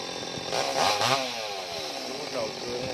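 A chainsaw cuts into a tall coconut palm growing near power lines, its engine droning steadily with a couple of revving surges, heard at moderate distance alongside outdoor background noise.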